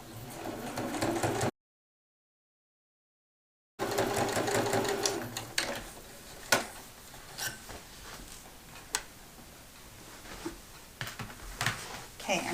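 A sewing machine stitches across a quilted bag panel with a steady, close whirring run. A short break in the sound is followed by faint clicks and rustles.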